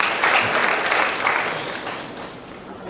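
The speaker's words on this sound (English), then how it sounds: "Let's have a round of applause for him," Brief applause from a crowd at a conference keynote, dense clapping that slowly fades over a few seconds.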